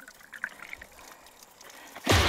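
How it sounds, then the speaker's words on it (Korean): Spring water on a mountainside trickles thinly into a plastic water bottle, a soft, faint patter that runs unevenly for about two seconds before a sudden loud, harsh burst cuts in at the end. "졸졸졸 흘러나오는 물을 생수병에다가 받고 있는데"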